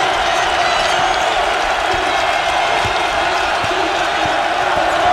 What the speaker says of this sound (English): Reith with 9, and the crowd going wild here at the Pete.